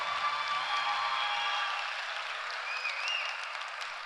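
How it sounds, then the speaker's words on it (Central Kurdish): Sustained applause from an audience fills an awards ceremony hall after a young daf player is named second-place winner, dense steady clapping throughout with a faint voice near the end. "چەپڵەکانتان بۆ ئەحمەد"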